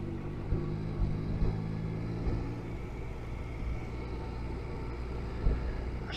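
Motorcycle engine hum while riding along a road through the Cantal mountains, a steady low rumble with some wind noise and no talk.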